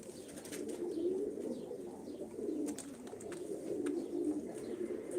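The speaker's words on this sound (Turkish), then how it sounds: "Kerkükçü Ali abiden bir tane hazır uçup oynayan bir kerkükçü, kerkük dişi aldım" A female Kerkük pigeon coos softly and continuously, a low, rolling murmur up close with a few faint chirps and light background noise.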